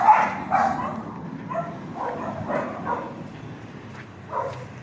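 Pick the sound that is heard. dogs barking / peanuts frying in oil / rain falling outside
dogs barking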